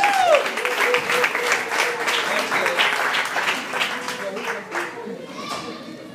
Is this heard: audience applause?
yes